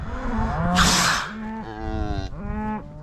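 Cattle on a ranch moo in a herd, with several loud, drawn-out lowing calls from nearby cows overlapping and following one another, plus a brief breathy bellow.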